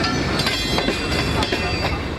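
A train runs along the railway in Pakistan with a steady loud rumble and rhythmic clickety-clack of wheels over rail joints, heard close and continuous throughout.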